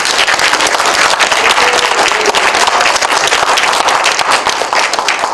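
Loud, sustained applause from an audience in a library hall at a history and culture academic conference in Yeoju, dense and steady throughout with no pause.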